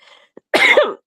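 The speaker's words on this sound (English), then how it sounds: "Yeah, I'm still coughing." A woman coughs once, a short harsh burst that breaks into a second rasping push, close and loud after a faint throat sound and a brief quiet pause.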